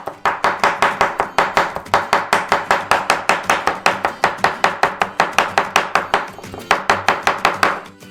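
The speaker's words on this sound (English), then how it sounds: "Very finely cut them into strips. And then crosswise." Fast, even knife chops through dried tomatoes on a cutting board, dozens of crisp close taps in a steady rhythm with brief pauses, cutting thin strips and then crosswise.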